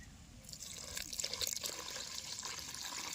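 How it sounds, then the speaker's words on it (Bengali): Water is poured into a dough mixture already rubbed with oil for goli roti, a soft, brief trickle and splash that builds in the middle and then eases off, quiet and close. "এবার দিয়ে দেবো জল"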